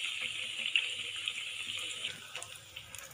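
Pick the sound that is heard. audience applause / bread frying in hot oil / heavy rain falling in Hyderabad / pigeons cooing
bread frying in hot oil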